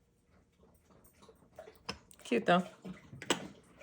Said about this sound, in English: Excuse my dog drinking his water very loudly.